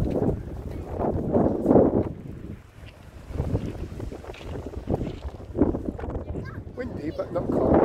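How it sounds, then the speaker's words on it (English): Gusty wind at the seaside harbour in Lyme Regis, with boats moored nearby, buffets the microphone in loud low rumbling surges that rise and fall through the clip, with faint voices in the background. "Windy, but not cold."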